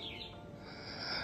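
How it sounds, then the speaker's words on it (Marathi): Birds call and chirp outdoors near a room, the thin high calls coming faint and somewhat distant over quiet background ambience, with no talking. "आवाज ऐकताय तुम्ही पक्ष्यांचा."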